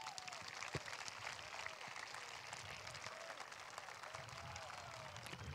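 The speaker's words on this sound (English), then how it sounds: "Everyone give yourself a round of applause." A school assembly crowd gives a quiet, distant round of applause, a faint continuous patter with a murmur of voices underneath.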